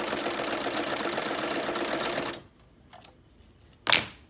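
A sewing machine stitches a felt bat garland with a fast, even rattling whir for about two seconds, then stops, followed by a couple of faint handling clicks and a brief louder rustle.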